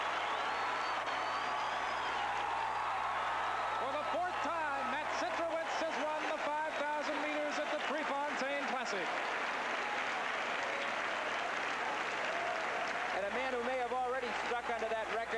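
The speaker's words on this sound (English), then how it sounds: "Listen to this crowd cheer him on." A stadium crowd at a 1982 5000-meter track race cheers and applauds a runner nearing the finish, a distant, continuous roar under excited commentary.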